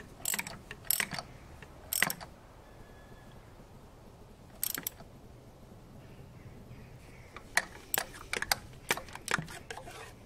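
Ratchet wrench tightening exhaust manifold bolts on a Land Rover Discovery 2 TD5, with bursts of rapid close clicking separated by quiet pauses, no talk.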